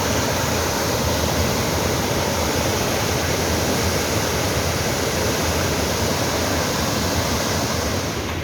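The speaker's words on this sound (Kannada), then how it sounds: "ತಟ್ಟಿಹಳ್ಳಕ್ಕೆ ಅಪಾರ ಪ್ರಮಾಣದಲ್ಲಿ ನೀರು ಹರಿದು ಬರ್ತಿದೆ" The Tattihalla stream, flooded after three days of heavy rain, rushes past in a loud, dense, unbroken roar of churning water, steady and close with nothing else heard.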